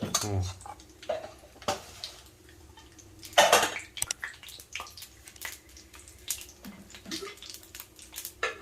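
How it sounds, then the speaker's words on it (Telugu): About two spoons of mustard seeds tipped into a red chilli and coriander pickle: scattered light clicks and tinny clinks of spoon against pot, with a few louder clatters over a soft background hiss. "ఆవాలు వేస్తున్నానండి, ఒక 2 స్పూన్లు ఆవాలు"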